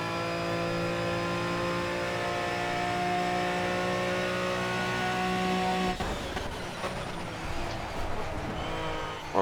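Aston Martin Vantage V12 GT3 race car in Project CARS at Monza, a loud sustained high engine whine under load that cuts off abruptly, followed by rougher, lower engine and tyre noise.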